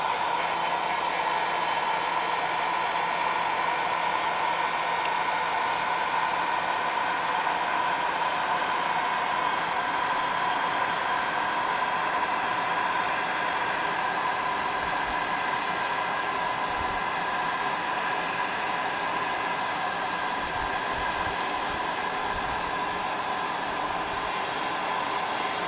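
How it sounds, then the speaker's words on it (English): A heat gun blows steadily while melting crayon and polymer clay, a constant loud airy roar with a whining tone that runs unbroken for the whole stretch without any talk. "Then you're going to take your heat gun or put it in the oven for 15 minutes"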